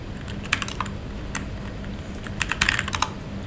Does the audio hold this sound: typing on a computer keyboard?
yes